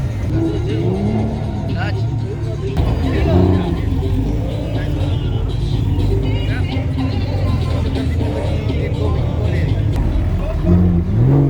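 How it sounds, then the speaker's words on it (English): Ferrari SF90XX supercar arriving at a busy car show in Durban, a steady engine rumble with a brief rev swell, heard amid crowd chatter and nearby talking. "Ferrari Sf90Xx just pulled up"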